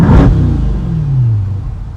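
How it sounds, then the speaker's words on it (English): A C8 Corvette fitted with an AWE Touring exhaust revs hard once, a loud close burst that rises then falls away into a long descending engine drone. "Here's a rev, no bridge."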